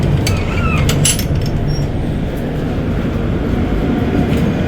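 A Howrah–Kalka Netaji Express passes close by, giving a steady, loud rumble of rolling wagons with faint metallic squeals and clinks running through the whole stretch, and no voices.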